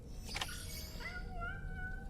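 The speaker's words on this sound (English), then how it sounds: "The cat!" A cat meows in the video game Death Stranding 2, one drawn-out, rising-then-falling meow heard fairly close over quiet ambient game background, with no talking.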